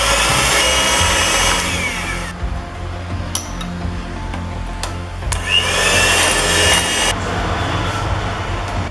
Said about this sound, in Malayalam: ഇനി നമുക്ക് ജസ്റ്റ് ഒന്ന് ബീറ്റ് ചെയ്തെടുക്കാം.